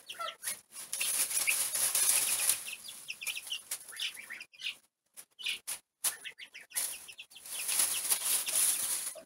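A hen outdoors with her chicks clucks and chirps in short bursts, with a quick flutter of wings, fairly close and mostly quiet, with gaps of near silence between calls.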